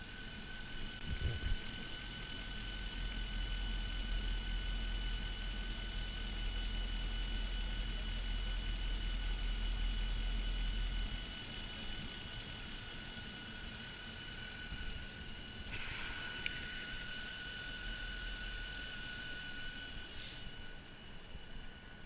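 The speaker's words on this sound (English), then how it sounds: "a cold start is the best way for checking an engine" A 2009 Mercedes CL550 V8 idles after a cold start, a steady low hum with faint whine, heavier at first and settling quieter partway through, no voices.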